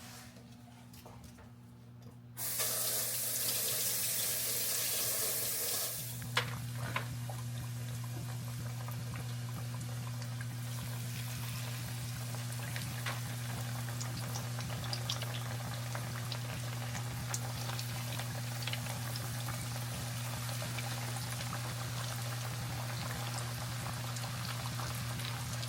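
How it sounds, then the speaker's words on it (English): Flounder is lowered into hot frying oil, setting off a sudden loud hiss that settles into a steady, close bubbling sizzle with faint clicks. The sound carries on unbroken and alone for over twenty seconds. "Now I'm going to get the fish down in the oil."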